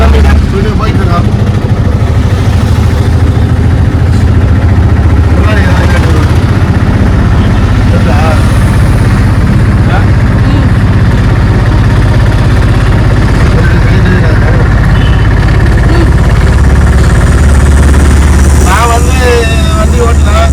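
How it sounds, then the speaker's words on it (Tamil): An auto rickshaw engine runs steadily while driving on a road, a loud continuous low rumble throughout, with people talking over it. "வண்டி ஓட்டிட்டு இருக்கேன்."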